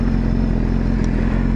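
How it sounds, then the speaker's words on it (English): A motorcycle engine drones steadily while riding on a road, a loud, continuous low rumble with wind and a faint rattle, no voices. "Nothing like a nice motorcycle ride to wake you up."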